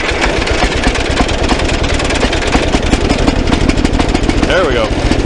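An old engine from a hoard of stored engines starts on the choke and runs in a loud, continuous, close idle with a rough, knocking pulse throughout.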